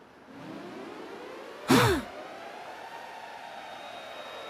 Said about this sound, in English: What does the siren mean?